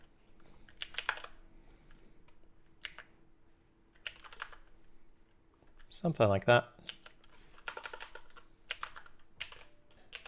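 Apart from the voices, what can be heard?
typing on a computer keyboard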